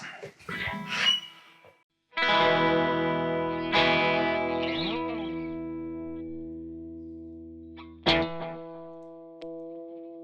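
Guitar played through a Fender Hot Rod Deluxe amp and pedal board: a few big sustained chords swell and ring out with chorus and echo, each left to decay, with a short noisy lead-in.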